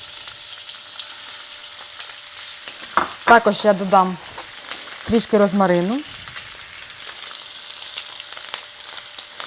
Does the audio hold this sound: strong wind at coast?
no